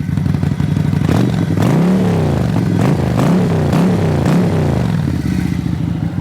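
SM Sport V16 motorcycle engine revved hard from idle, loud and close, with repeated rising and falling throttle blips over a steady rumbling base and some mechanical clatter.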